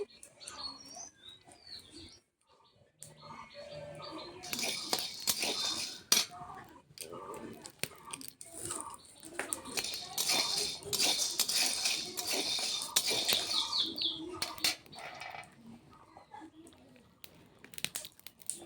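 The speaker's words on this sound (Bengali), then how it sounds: "এখন দেখো ছোলাটা ভাজা করছি" Chickpeas dry-roasting in a pan, the hard kernels rattling and scraping against the metal in dense, busy bursts as they are stirred, with a brief pause early on.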